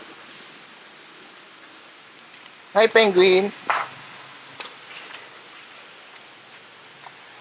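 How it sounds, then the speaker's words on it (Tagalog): Steady rain falls throughout as a soft, even hiss near a beach on Boracay Island, with a brief burst of nearby voices speaking partway through. "Oh, umuulan."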